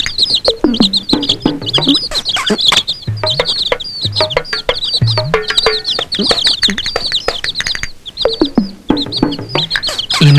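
Hens and chicks cluck and cheep loudly and close, with a constant flurry of overlapping high chirps and repeated low clucks.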